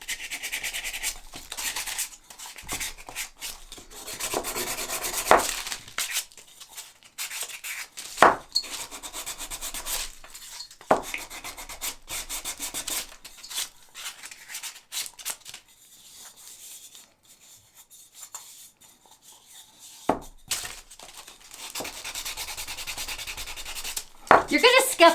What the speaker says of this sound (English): You're going to just scuff this up the way you like it.